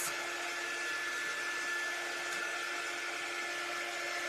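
A handheld dryer blows steadily on a craft project, a loud continuous whirring hiss with a faint high whine, running alone without pause throughout.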